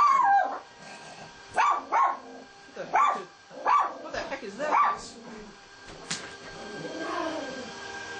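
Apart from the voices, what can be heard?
dogs barking and howling in video game Skyrim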